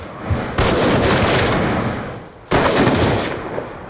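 Black Ops 2 gunfire in two dense, loud bursts of rapid automatic shots, the first lasting about two seconds and the second starting after a brief dip, with no talking.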